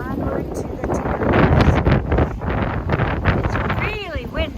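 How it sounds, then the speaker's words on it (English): Strong gusty wind buffets the microphone on a mountain trail along the Appalachian Trail near Tinker Cliffs, loud rumbling rushes throughout, while a person talks over it. "It's really windy, but it's really nice."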